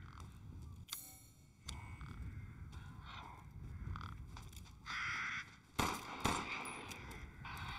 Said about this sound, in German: Der zweite Schuss war nicht geplant.